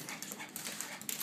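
A dog pants quickly during play indoors, a faint, breathy rhythmic huffing close by with light whimpery edges, no voices.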